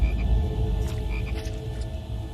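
A chorus of frogs croaking by the Nile, many overlapping calls forming a loud, continuous, throbbing din with sharper croaks rising above it now and then.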